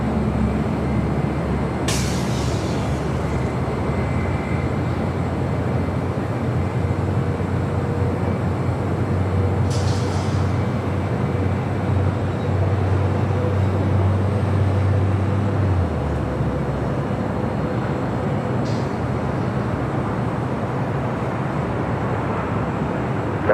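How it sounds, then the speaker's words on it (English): An American Airlines Airbus A321 arriving from Dallas-Fort Worth at LAX makes a steady, loud broadband jet roar that holds for over twenty seconds, with a low rumble fading out partway through. "American Airlines Flight 375 coming in from Dallas, Fort Worth, Texas"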